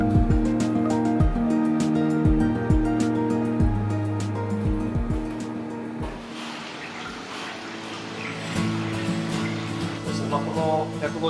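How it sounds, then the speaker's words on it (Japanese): Water is poured into a 150 cm nature aquarium with wood and moss, first as splashing and trickling over a tonal background, then as a steadier rushing gush with bubbling; no one talks. "じゃあ注水します。"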